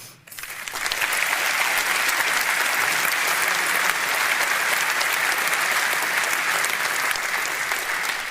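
Sustained loud applause from a packed room at a political rally in Hull, starting abruptly and holding steady clapping throughout with no speech.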